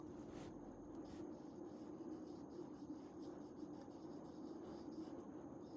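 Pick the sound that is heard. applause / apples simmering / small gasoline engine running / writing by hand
writing by hand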